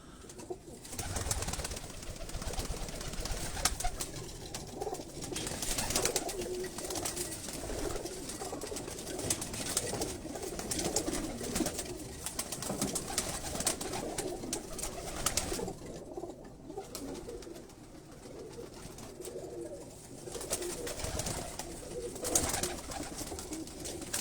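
Pigeons coo softly and repeatedly on a Karachi rooftop loft, a low continuous murmur of several birds with light rustling, fairly close and without speech.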